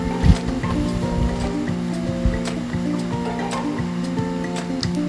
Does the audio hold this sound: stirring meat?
yes